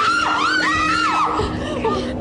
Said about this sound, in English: I jumped up and screamed.